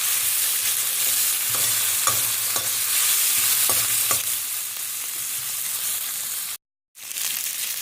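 Noodles and vegetables for veg chow mein fry in a pan with a steady sizzle, while a utensil stirs and scrapes in several distinct strokes, briefly cutting out near the end.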